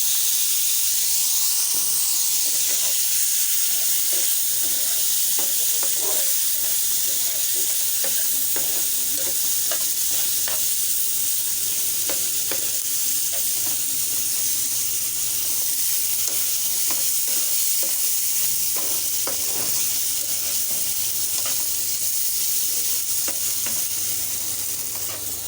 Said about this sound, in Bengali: করে ধনিয়ার গুঁড়ি। দিয়ে দিচ্ছি আলু।